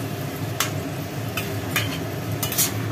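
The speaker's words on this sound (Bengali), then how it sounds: "ঢাকনা খুলে একটু মাংসটাকে আবার নাড়াচাড়া করে নেওয়া হলো।" Country chicken meat being stirred in a pot with a metal utensil, steady sizzling and low cooking hiss punctuated by a few sharp scraping clinks against the pot.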